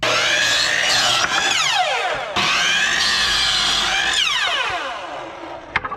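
Power saw cutting wooden support boards for a wakeboard kicker, two loud close passes, each a high whining cut whose pitch sweeps down before the blade frees, ending in a brief knock.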